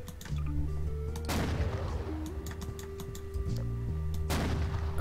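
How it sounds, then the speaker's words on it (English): A Benelli M3 shotgun fires in Garry's Mod: two loud, sharp blasts a few seconds apart over a steady electronic hum. "Well, Benelli M3 shotgun."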